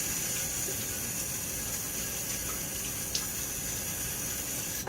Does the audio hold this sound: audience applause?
no